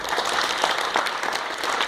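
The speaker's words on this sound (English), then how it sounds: "big round of applause for Mr." Audience applause at a panel event, a steady, fairly loud spread of many people clapping with no voices over it.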